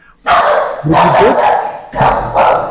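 A dog barks in several loud, close bursts, each a cluster of rough yaps with pauses between them, with no one speaking.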